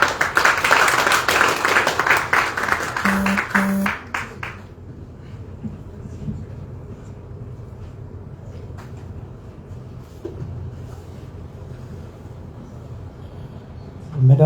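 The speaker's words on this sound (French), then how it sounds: "Tous vos applaudissements, s'il vous plaît." Audience at the Grand Théâtre in Dakar bursts into applause at an independence celebration, a loud patch of clapping that stops abruptly after about four seconds, leaving a quiet room with faint murmurs and a brief rise at the end.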